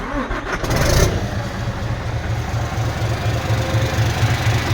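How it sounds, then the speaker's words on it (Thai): An engine cranks and catches, then settles into a steady rumbling idle with a rhythmic low pulse, loud and close, without voices. "นี่นะฮะ เครื่องสตาร์ทได้แล้วไม่มีอะไร"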